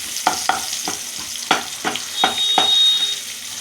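Onions crackle in hot oil while a utensil scrapes and taps the pan in a loose, repeated rhythm, close and fairly loud.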